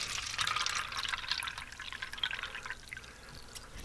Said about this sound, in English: watch what happens when you wash your fruits and vegetables in the strong